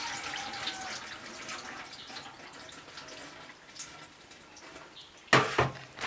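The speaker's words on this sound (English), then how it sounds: "Clean the rice." Water sloshes and trickles softly as grains are rinsed, with a louder splash near the end.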